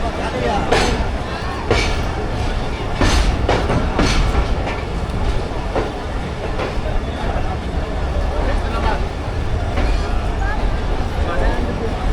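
A passenger train pulls into Hyderabad Junction platform one, its carriages rumbling and clacking steadily and close by, with a busy platform murmur mixed in.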